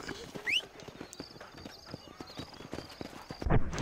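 Quick rhythmic clip-clop of horse hooves trotting along in the video game Red Dead Redemption, fairly close, with a brief neigh near the end and faint ambient background.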